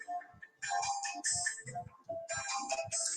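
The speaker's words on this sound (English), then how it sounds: "the phone's ringing. Y'all hear the phone ringing?" A phone rings indoors, a short melodic electronic ringtone pattern repeating in two bursts, fairly faint and close by.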